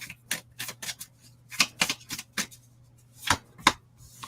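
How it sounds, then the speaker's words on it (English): Tarot cards being shuffled by hand, giving a run of quick, crisp riffling and flicking bursts with short pauses between them, close up and fairly quiet over a low background hum. "Helps if you shuffle properly."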